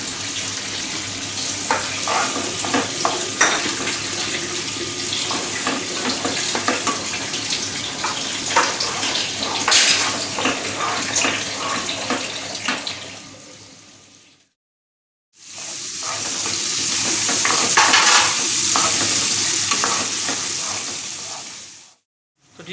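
Chicken Manchurian fries in a pan with a loud, continuous sizzle and crackle that cuts out completely for about two seconds, then resumes just as loud before stopping again.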